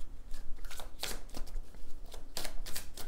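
Tarot cards are shuffled by hand, a quick run of close, crisp riffling bursts and flicks that ends in soft taps, with no speech.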